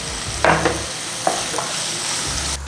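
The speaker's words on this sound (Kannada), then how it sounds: "ಸ್ವಲ್ಪ ಗೋಲ್ಡನ್ ಕಲರ್ ಬರೋವರೆಗೂ ರೋಸ್ಟ್ ಮಾಡಬೇಕಾಗ್ತದೆ" Spices with turmeric fry and get stirred in a pan for palak chicken, roasting toward golden: a close, steady sizzle with a few scraping stir strokes and no voices.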